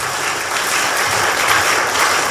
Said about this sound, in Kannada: ಇನ್ನೊಮ್ಮೆ ಜೋರಾಗಿ ಕೈ ಚಪ್ಪಾಳೆ ಕೊಡಿ